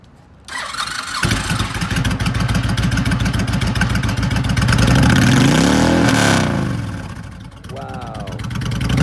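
A used 2007 Honda VTX1300S heavyweight V-twin touring motorcycle starts up and revs loudly close by, the engine rising and falling through a big swell before settling back, with a brief voice heard near the start.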